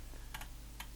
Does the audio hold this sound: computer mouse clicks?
yes